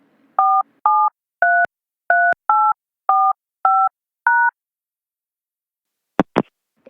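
Seven telephone keypad tones tap out a code in a steady run of separate beeps, loud and close, followed by a couple of short sharp clicks at the end.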